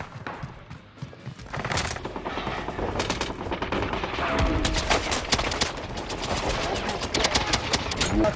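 Video game gunfire with rocket shots, dense rapid bursts of automatic fire and heavy blasts continuing throughout, loud and close, with voices heard underneath.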